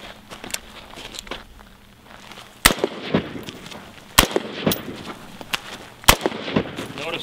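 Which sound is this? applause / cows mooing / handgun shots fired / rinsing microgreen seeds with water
handgun shots fired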